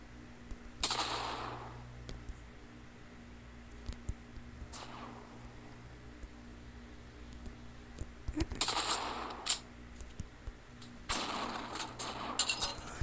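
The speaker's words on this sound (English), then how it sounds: "i better shoot up some thugs sooner or later" Video game gunfire from the Bloodlust mod while shooting thugs: several bursts of rapid shots, each lasting about a second, with quiet gaps between and a longer volley near the end.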